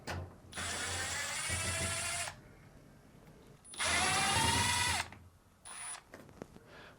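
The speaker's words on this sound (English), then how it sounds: "Now remove the two Phillips screws." A power screwdriver whines in two long bursts, backing Phillips screws out of a Fisher & Paykel clothes dryer cabinet, followed by a shorter third burst, close and fairly loud with no talking.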